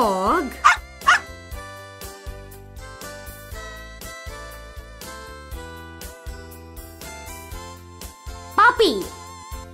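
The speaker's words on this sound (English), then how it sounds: "Dog." A dog barks in a few short yips near the start and again near the end, over soft background music.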